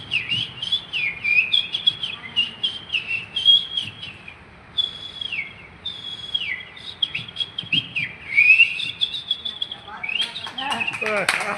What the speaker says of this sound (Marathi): असा हा दयाळ पक्षी.